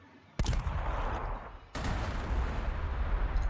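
A crack missile fires in the strategy game Warhammer 40,000: Sanctus Reach, two loud sharp blasts a little over a second apart, each sliding into a sustained roaring rumble.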